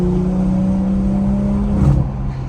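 A BMW car with a B58 engine accelerating hard, its exhaust giving a loud, steady droning note close by that swells briefly near the end, with no talking.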